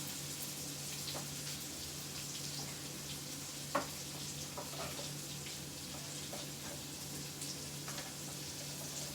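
Two onions sautéing in a home kitchen pan over medium heat, giving a faint, steady sizzle with small scattered pops and one brief clink, no talking.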